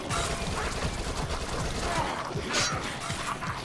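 Rapid SMG fire from the Dead Nation video game rattles in a fast, continuous burst of sharp shots over loud game effects, holding at a steady level for a few seconds.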